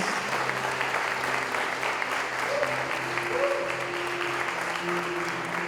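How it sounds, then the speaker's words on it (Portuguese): A church congregation applauds during a worship service, a steady wash of many hands clapping together at an even level for several seconds, with a faint hum of voices beneath. "Pode dar uma salva de palmas para Jesus."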